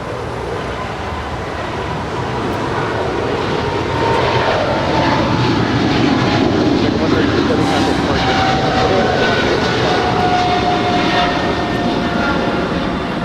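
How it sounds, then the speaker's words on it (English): An Asiana Airbus A350-900 landing at LAX from Seoul produces a loud jet roar that swells after a few seconds and stays strong, with voices speaking over it. "And that is Asiana 204 coming in from Seoul."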